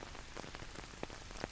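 Rain falling on a surface, a dense steady hiss of pattering drops with occasional slightly sharper drips, faint and continuous with no voices.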